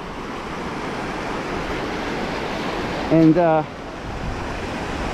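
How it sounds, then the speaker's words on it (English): Thick surf breaking in ankle- to shin-deep water at a sandy beach, a steady broad wash of waves with wind across the mic, and one brief spoken word near the end. "this is pretty, you know, thick waves right here"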